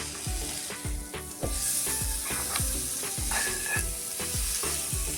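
Oyster mushrooms fry in a hot pan with chilli powder for a mushroom roast, giving a steady close sizzle and repeated scraping stir strokes in a regular rhythm, with no talk.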